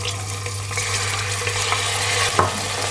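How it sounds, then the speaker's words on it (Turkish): Diced meat, 200 grams, sautéing in hot olive oil in a pot for a meat and potato dish: a steady, close sizzle with faint scraping, over a constant low hum. "Kızan yağın içine 200 gram kuşbaşı et koyuyorum"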